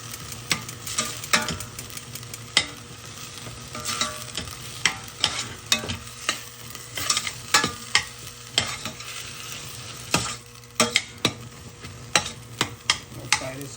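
Pepper, onion, garlic, spinach, scallion, cilantro and green seasoning fry in a pan, a close, steady sizzle broken by repeated scraping stirs and clacks of a spoon, with no talk.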